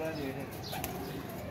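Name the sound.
pigeons cooing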